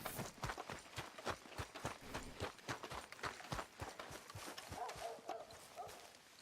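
Galloping horse hooves in Red Dead Redemption 2, a steady rapid clip-clop of repeated hoof strikes running the whole stretch at moderate level, with faint voices briefly in the background near the end.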